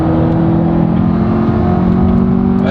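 A 2025 Corvette C8 engine drones steadily and loudly with a rising tone as it accelerates on a race track, a sustained close-up roar with no talking.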